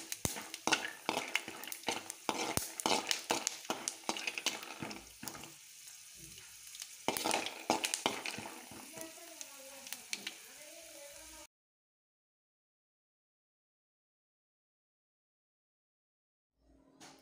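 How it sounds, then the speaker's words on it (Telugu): Peanuts fry in a little oil in a pan for a chutney, giving a close, steady sizzle with frequent clattering stirs, before the sound cuts to near silence. "శనక్కాయ పప్పులు వేయించుతున్నాను"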